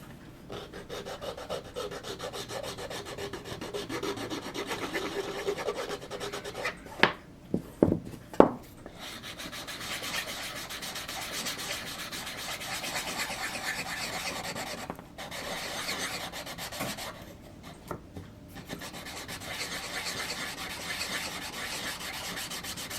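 Sanding sticks rubbing wood on a model ship, a soft, continuous rasping scrape with a few sharper knocks midway, close and fairly quiet, no talk.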